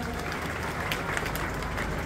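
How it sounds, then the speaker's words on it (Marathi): Audience clapping at a motivational speech event: a dense, continuous roar of many hands applauding together, loud and even throughout, with no talking over it. "वाजवा टाळ्या एकदा."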